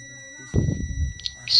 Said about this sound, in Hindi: ये देखिए ये बज़र बजा, इसका मतलब अपना फ्यूज़ जो है ये ओके है